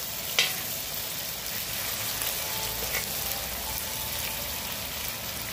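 Ginger fries with chicken liver in a pan, giving a continuous close sizzle with a few sharper crackles and quiet stirring scrapes, no talking.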